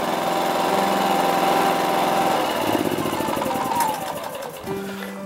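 A portable 2.3 kVA inverter generator runs with its economy switch on, a loud, close engine drone whose pitch shifts and drops toward the end as the load settles.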